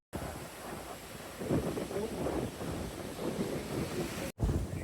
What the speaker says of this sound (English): It's very windy, I do apologise